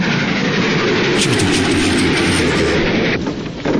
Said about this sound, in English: I feel a train cutscene.